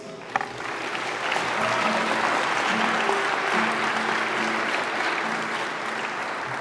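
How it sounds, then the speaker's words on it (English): Audience applause for a group of parents at a weekend prayer service, a steady dense clapping wash that holds evenly and loud throughout, with a faint low hum beneath. "Can we give them a round of applause?"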